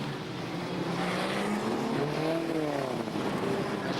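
Banger racing cars, a Daimler among them, roaring around an Ipswich stock-car track, with a continuous loud engine drone whose pitch rises and falls as the cars pass and accelerate.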